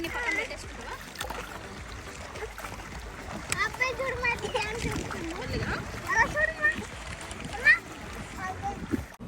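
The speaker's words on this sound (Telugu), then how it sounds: "అంకుల్ ఇంకా కృతిక్ కలిసి బోట్ నడుపుతున్నారు." Boat moving through river water at the Hogenakkal waterfalls, with scattered splashes and gurgling as it rows along, heard under steady talk and children's voices, with a few sharper splashes near the end.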